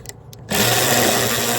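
A power tool spins up abruptly after a couple of faint clicks, whirring loudly and steadily as it tightens nuts on a Trimax mower.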